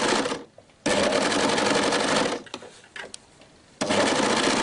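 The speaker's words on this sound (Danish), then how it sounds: "Så fik vi ærmerne syet i" A sewing machine stitches sleeves onto a T-shirt in close, loud bursts of rapid whirring and ticking, stopping for short pauses between runs.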